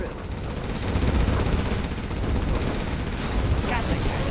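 Gatling tank rapid fire in the Command & Conquer: Generals video game: a dense, continuous roar of rattling gunfire with booms underneath, loud and sustained, with a unit's voice lines over it.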